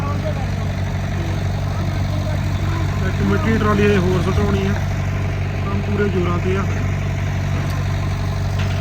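A generator's steady, droning engine hum runs throughout at a building site while someone talks over it.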